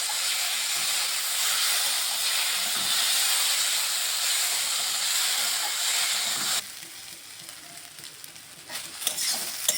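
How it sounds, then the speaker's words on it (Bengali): Potatoes fry in a small amount of oil with salt, giving a loud, steady hiss and sizzle close by for several seconds before it drops away, leaving quieter crackles and a few clinks. "যেহেতু আমি পরে তেল দেবো তার জন্য একদমই অল্প তেলে ভেজে নিচ্ছি"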